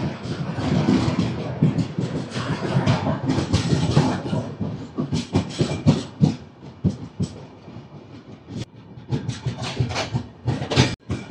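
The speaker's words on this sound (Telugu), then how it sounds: "ఒక 2 మినిట్స్ హాల్ట్ తర్వాత బెల్లంపల్లి రైల్వే స్టేషన్ అయితే మన ట్రైన్ స్టార్ట్ అయిపోయింది." A Secunderabad–Sirpur Kaghaznagar Intercity Express pulling away from Bellampalli station, heard from inside: loud continuous rumble with rhythmic clickety-clack of wheels over rail joints.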